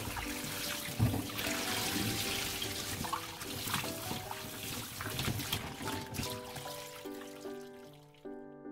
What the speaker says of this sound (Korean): 배추는 흐르는 물에 여러 번 깨끗이 씻어서 물기를 빼서 준비해 주세요.